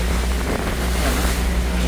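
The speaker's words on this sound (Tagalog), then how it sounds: "Medyo rough na. Malakas, no? Pumapasok yung tubig here." Rough seas in Sarangani Bay slap and splash into a small boat, a loud, constant roar of churning water and wind over a low engine hum.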